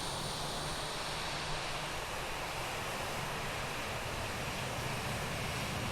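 Steady broadband roar of Airbus A318 jet engines during pushback in Microsoft Flight Simulator, an even, unbroken whoosh with a low rumble and a faint high whine, no talk.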